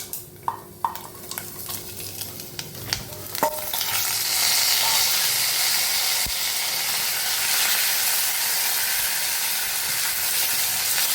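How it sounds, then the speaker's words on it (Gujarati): Cut potatoes go into a pan of roasted peanuts: a few sharp clinks and light scraping first, then a loud, dense frying sizzle swells up and continues steadily, close and with no talking. "સિંગ દાણા સતળાઈ ગયા છે એટલે આપણે એમાં કટ કરેલા બટેટા ઉમેરી દઈશું"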